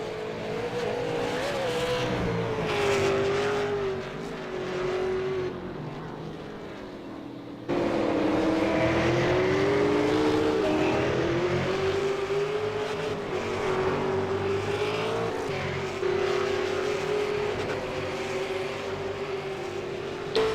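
V8 Supercars race around Oran Park in the iRacing sim, engines droning continuously with rising and falling pitch as the cars pass over a hill, a steady loud roar that dips briefly midway and then returns.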